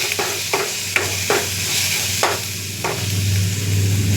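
Coconut oil sizzles in a pan as rasam ingredients are sautéed and stirred. A steady fry hiss runs underneath, broken by a series of spoon scrapes and taps at uneven intervals.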